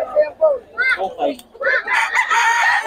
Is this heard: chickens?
yes